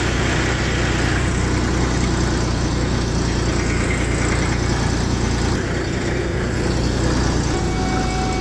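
A tractor engine idles steadily nearby in rainy farm weather, a continuous low rumble with no talk.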